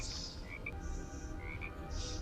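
A frog croaks in a few short repeated calls spread across a couple of seconds, set over a steady low background hum with no talking.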